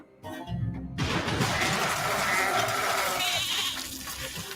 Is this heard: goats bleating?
yes